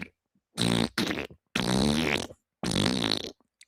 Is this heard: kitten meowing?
no